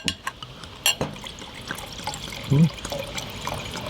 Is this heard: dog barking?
no